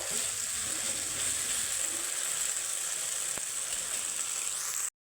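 Chow mein stirred with tomato ketchup in a hot frying pan, a steady close sizzle and hiss running continuously with faint scraping, no talk, cutting off abruptly near the end.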